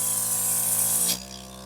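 An Ionto Peel (Ionto-Comed) cosmetic device gives a steady hissing spray with a mechanical hum underneath, which cuts off abruptly after about a second, leaving a quieter hum.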